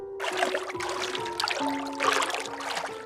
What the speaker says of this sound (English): the unmistakable sound of someone wading through water right outside